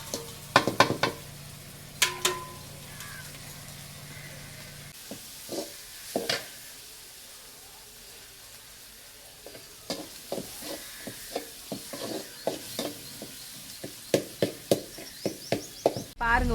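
Village greens sauté with tomato, garlic, pepper and cumin in a pan, soft sizzling broken by repeated knocks and scrapes of a spoon stirring, with someone talking early on.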